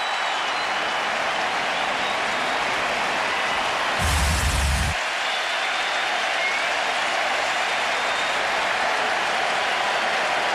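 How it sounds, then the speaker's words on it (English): A loud baseball stadium crowd at a 2004 Red Sox game roars continuously in a dense, distant wash of cheering and clapping, swelling briefly for about a second near the middle. "this crowd is so loud right now"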